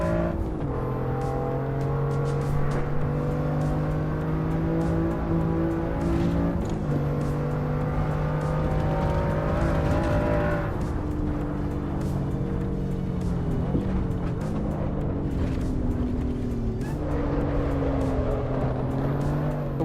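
BMW M2 Competition in a racing video game, a steady engine drone with rising and falling revs through gear changes, tire noise and occasional squeals, continuous and close with no talk.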